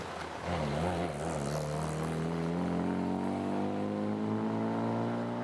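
A small 1000 cc classic car engine revs up sharply and holds a rising, buzzing whine, loud and close, with its pitch climbing steadily, at a historic hillclimb event.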